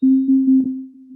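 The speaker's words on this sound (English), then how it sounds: "or a sine wave like this one." A steady synthesizer sine wave tone, single pitch held for about a second, loud and clean with slight pulsing in level, alone with no talk.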